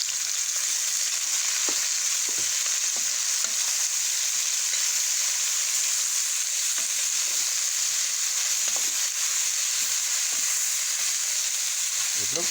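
Onions fry with browned beef for Hungarian goulash, a bright, even sizzle that stays steady and close throughout, broken by faint stirring clinks.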